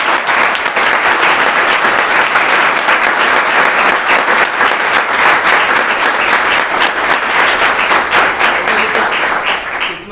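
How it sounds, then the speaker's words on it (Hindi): Loud, sustained audience applause for a woman and her husband at an event, dense clapping from a large crowd that holds for about ten seconds before trailing off slightly at the end. "इनके लिए जोरदार तालियां।"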